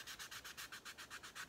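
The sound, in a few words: sanding plastic with sandpaper block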